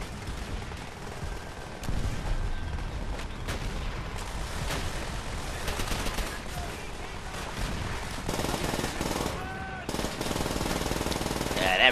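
Sustained machine gun fire in Call of Duty: World at War, a dense, continuous hammering stream of rapid shots lasting several seconds, loud and close, with brief gaps and game sounds layered in.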